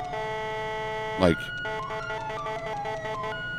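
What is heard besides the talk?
Whelen Epsilon police siren bullhorn tone, GTA V LSPDFR video game mod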